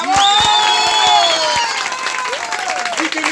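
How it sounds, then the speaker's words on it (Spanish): Applause and cheering at a live parranda birthday celebration, with loud sustained tones from instruments or voices ringing over the crowd and a few sharp hits early on. "Rosalía, necesito que me den un aplauso,"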